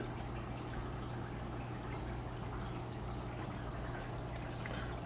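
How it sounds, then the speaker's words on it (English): A small waterfall with a pump underneath splashes into an animal tank, giving a constant even rush of falling water with a low pump hum beneath it. "There's a waterfall there with a pump underneath."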